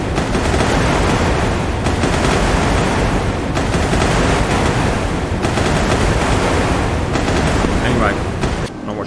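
Warship gun battle in the naval combat game Sea Power, 1940s US battleships and carriers against a Japanese fleet: loud, continuous rumbling gunfire with repeated heavy blasts over roaring sea noise, sustained throughout.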